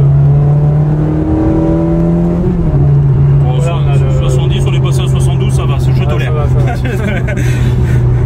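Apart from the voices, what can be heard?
Ferrari 360 V8 engine revving while driving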